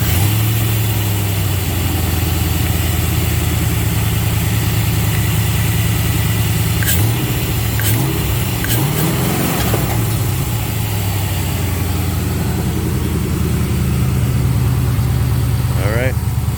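An LS-swapped 1969 Chevy Camaro idles steadily close by with a deep, even rumble that holds throughout, wavering briefly midway as the idle is adjusted, with a few light clicks and clatter over it.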